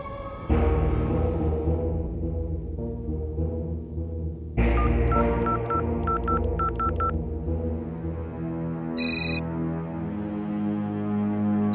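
A telephone in a Bhojpuri TV serial scene sounds a run of rapid electronic beeps partway through, then a short second burst, all over steady background music.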